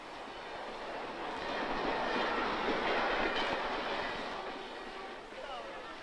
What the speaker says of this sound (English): The railway station, half an hour from Peking.